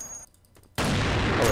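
Gunfire in the free-to-play multiplayer shooter KUBOOM: after a short quiet gap, a loud, dense burst of shots and blast noise fills the rest of the moment, sustained and close, with no talking.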